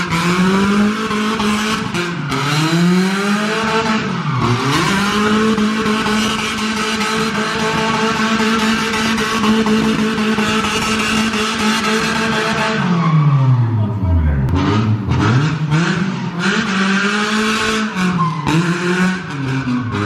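A BMW E36 drifting, its engine roaring loud and steady with pitch dipping and climbing as it revs, under a continuous squeal of sliding tires, close and sustained throughout.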